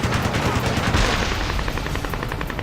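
Heavy automatic gunfire in the combat flight video game Ace Combat Assault Horizon, loud and continuous rapid bursts with booming low rumble throughout.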